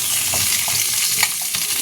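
Fish curry spice paste frying in a wok, a steady close sizzle with faint stirring scrapes running continuously, no voices.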